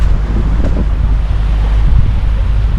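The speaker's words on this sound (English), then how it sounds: "So this is the beach spot." Surf washes onto a sunny beach in Jamaica with clear water, a steady roar of waves mixed with heavy wind buffeting the microphone, loud and continuous with no voices.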